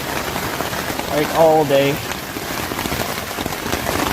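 Steady rain falls on a tent during a river camping trip, a constant close patter that continues under a brief spoken remark.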